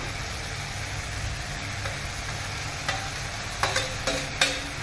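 Shukto vegetables frying in a pan, a continuous sizzle with a few louder scraping stirs toward the end, close and without speech.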